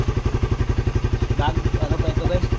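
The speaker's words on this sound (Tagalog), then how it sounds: "Umaandar pa guys, no? Motor." A carbureted 2016-model motorcycle idles nearby with a rapid, even, chugging pulse, loud and steady throughout, while someone talks briefly over it.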